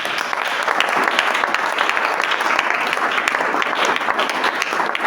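A church congregation claps loudly and steadily for the Lord, sustained dense applause with scattered cheers filling the room.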